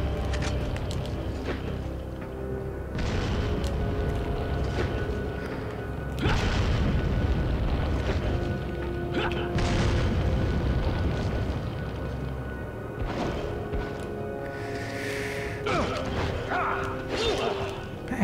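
Fire grenades in Resident Evil 4 go off in heavy, rumbling blasts that roll on for long stretches, loud and continuous, with game noise layered around them and faint voices at times.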